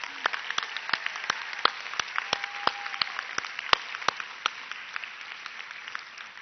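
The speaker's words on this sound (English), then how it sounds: "Let's give these ladies a round of applause" Audience applause at a Texas Bluebonnet Award library event, a dense steady patter of many hands with sharp individual claps standing out, moderately loud and continuous throughout.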